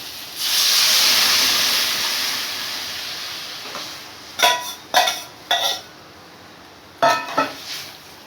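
Mango dal poured into a hot pan with tenderized mangoes lets out a loud, sustained steaming hiss that slowly fades, followed by several short clinks of a utensil against the pan.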